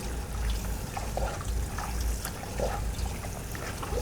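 Tap water runs steadily over laphing dough being washed by hand to rinse out the starch and leave gluten, a soft continuous trickle with faint splashes and no talking.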